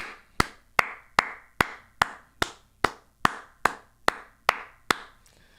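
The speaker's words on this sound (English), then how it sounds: "gotta clap it up, man." A single person claps after finishing a film, giving about thirteen sharp, evenly spaced hand claps at a steady moderate pace, each one close and crisp with a short room echo.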